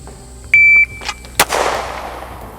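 A shot timer beeps once, then about a second later a single loud, sharp pistol shot cracks and rings out, fired during a draw from a Tier One Concealed Axis Elite holster at roughly eight feet.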